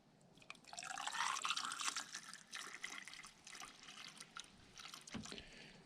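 Windshield washer fluid pours and trickles steadily into a Nissan Altima's reservoir, with a faint rising gurgle as it fills, then softer dribbles and drips.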